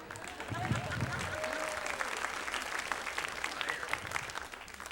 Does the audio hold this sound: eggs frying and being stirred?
no